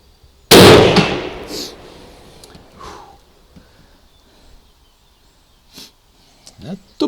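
A single loud shot from an SMLE MkIII* rifle cracks close by and decays into a short echoing tail. Faint small noises follow.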